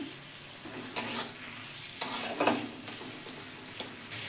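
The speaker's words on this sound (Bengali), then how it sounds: "পেঁয়াজটা আমি ভেজে নেব। পুরো গ্যাসটা আমি লো রেখেছি।" Onion fries in a pan over a low gas flame, giving a soft, even sizzle broken by a few sharp spatula scrapes and stirring bursts, with no talking.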